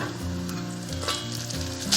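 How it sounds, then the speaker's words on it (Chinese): Oysters and seaweed pan-frying with dried scallops, shrimp and ginger shreds over medium-low heat, giving a dense, steady sizzle with occasional louder spits and stirring scrapes, close and unbroken by talk. "把这个底下的海蛎给它煎一下"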